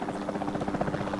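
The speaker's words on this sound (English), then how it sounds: "Then the sensible thing is to take a capture team helicopter." A capture team helicopter in the video game Jurassic World Evolution 2 flies with a steady, rhythmic rotor thump and engine buzz, close and loud, with no voices over it.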